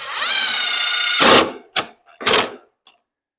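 A cordless drill whirs steadily as it drives a screw into the underside of a wooden Adirondack chair, then stops, followed by a few short scraping and knocking bursts up close.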